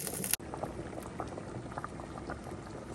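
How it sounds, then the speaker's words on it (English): Yukon Gold potatoes bubble in a pot of boiling water, a soft continuous simmer with a quick click near the start. "We've got our potatoes boiling away."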